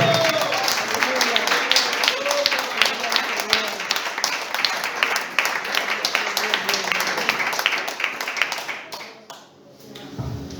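A Spanish-speaking church congregation claps steadily and loudly, dense applause filling most of the clip with voices calling out over it, then fading near the end.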